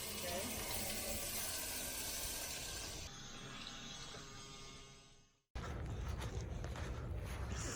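Water runs through a shower inside an ambulance expedition vehicle, a loud, steady hiss and splash that eases off, cuts out briefly, then gushes back on at full strength.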